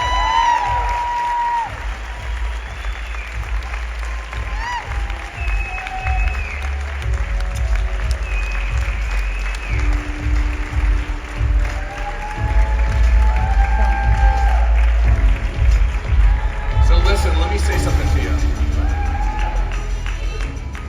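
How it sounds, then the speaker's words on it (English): Crowd applause at a wellness launch event, with clapping, cheers and whoops rising and swelling toward the end, while music plays underneath and scattered voices carry through. "Please give them a round of applause"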